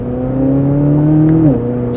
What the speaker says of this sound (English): As you depress the accelerator, it's almost like the exhaust turns up a notch or two